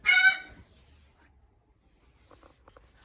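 A pet bird in an indoor bird room gives one loud, harsh call, then quiet follows with a few faint chirps near the end.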